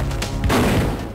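A gunshot in the Fighting Force 64 video game, a few quick percussive cracks followed by a loud booming blast that decays over about a second, close and punchy.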